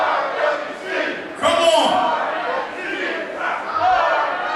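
A fired-up crowd at a Ring Wars Carolina battleground event chants the letters RWC together, loud and rhythmic, while a single voice calls out over them.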